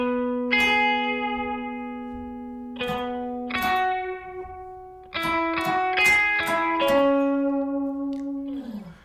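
Electric guitar with effects playing both parts of a song: sparse picked notes and chord stabs ringing out with reverb and echo, moderately quiet, no voices.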